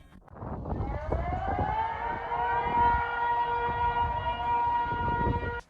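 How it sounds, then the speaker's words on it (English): Civil defense sirens wail loudly across Japan's Pacific coast during an earthquake tsunami evacuation, one long rising tone that holds a steady howl, with others overlapping in the distance. "Sirens wailed throughout the region."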